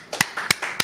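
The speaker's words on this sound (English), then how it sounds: "clap it up. Clap it up." Three sharp, evenly spaced hand claps land within a second, fairly quiet and close, with faint murmuring between them.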